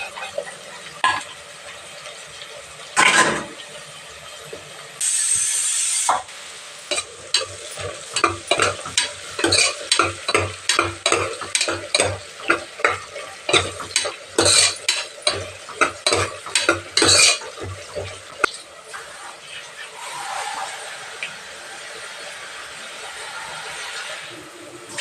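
Onions fry in a pan for a village-style Sunday country-chicken meal and are stirred vigorously. Rapid scraping strokes run over a constant sizzle, then ease off, leaving the hiss of frying alone.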